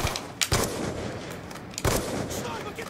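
Two sharp sniper rifle shots crack out in a first-person shooter game, each a loud, sudden blast with a short decaying tail, the pair spaced about a second and a half apart.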